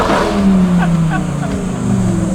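A modified Lamborghini Huracan STO sports car drives past with a loud, close engine note that rises and falls briefly as it accelerates.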